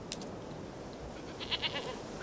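Goat bleating in The Witcher 3 game, a couple of short nasal bleats mid-clip rising above a quiet outdoor ambience, plus a brief call near the start.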